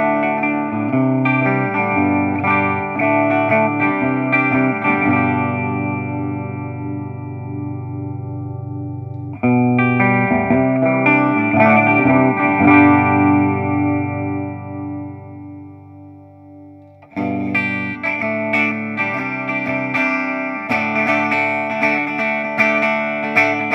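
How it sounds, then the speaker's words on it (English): Electric guitar run through a Boss AC-3 acoustic simulator pedal on its piezo setting, giving a bright, quacky pickup-like tone; steady strummed chords and picked notes fill the passage, with a brief drop before the playing resumes. "So this is the piezo setting, designed to sound like a piezo pickup."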